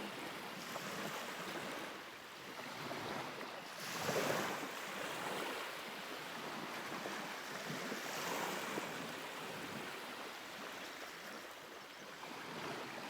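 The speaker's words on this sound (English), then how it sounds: "Oh, the waves are amazing this morning." Ocean waves wash onto the shore at sunrise, a soft continuous roar of surf with gentle swells in loudness and some wind, heard fairly faint and distant, with no voices.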